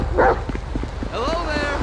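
Dog Chop in Grand Theft Auto V barking, a couple of sharp near barks and yelps mixed with game sounds and a voice.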